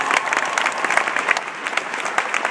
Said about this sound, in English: let's just give a round of applause for Kurt and Shannon